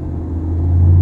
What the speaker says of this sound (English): The exhaust system sounds killer on this thing.